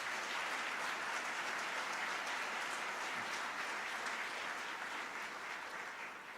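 Audience at the State of the City of Buffalo address applauds the Buffalo Police Department, a sustained even wash of clapping from a large crowd that eases slightly near the end.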